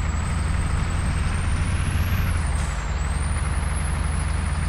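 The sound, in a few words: MAN F2000 truck engine in video game Euro Truck Simulator 2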